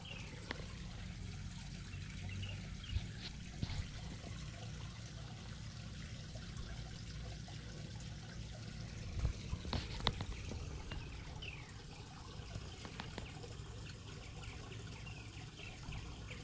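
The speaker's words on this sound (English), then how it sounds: "I am going to end with just letting you listen to the water feature for a little while." A garden water feature at a nature center trickles and splashes steadily, a soft continuous flow with faint drips and occasional brighter plinks, alone with no talk.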